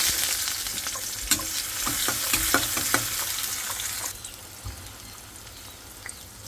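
Papaya and onion bhaji frying in a pan, a steady close sizzle with a few sharp spatula clicks in the middle before the frying settles into a softer hiss.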